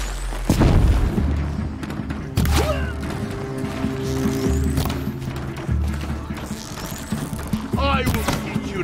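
Explosions and combat from the video game Horizon Zero Dawn, with a heavy boom near the start followed by further blasts, mechanical clanks and creaks under a busy game soundscape.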